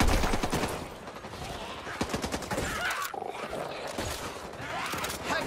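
Rapid bursts of gunfire from the Back 4 Blood video game, loud and continuous with overlapping shots and impacts, dense combat noise filling the scene.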